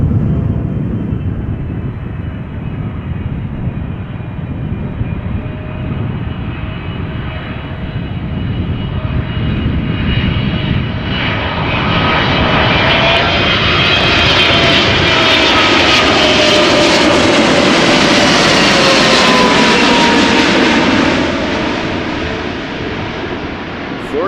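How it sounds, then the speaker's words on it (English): A KLM Boeing 777-300ER, fourteen years old, arrives at Amsterdam Schiphol on a long-haul flight from Johannesburg, its engines roaring loudly and swelling to a peak as it passes close, then easing away, with some talk faintly underneath. "KLM Flight 592 arriving from Johannesburg, South Africa, 777-300ER"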